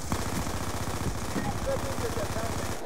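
Automatic gunfire in Black Ops 2, a steady rapid stream of shots running throughout at moderate loudness, with voices underneath.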